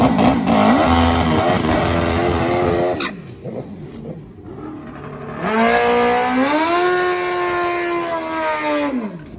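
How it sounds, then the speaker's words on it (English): Drag-racing motorcycles such as the Suzuki Hayabusa and Suzuki GS at a drag strip, engines roaring loud and sustained with rising revs, a brief dip in the middle before another bike screams up to high pitch. "you can see many competitors still running the Suzuki GS, some running the Suzuki Hayabusa"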